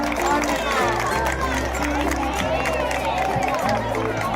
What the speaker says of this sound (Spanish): un fuerte aplauso para ellos dos también